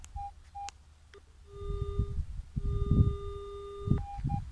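Electronic beeps and tones from a metal detector chirp in short bursts and longer steady pitches, over soft scraping and digging thuds outdoors.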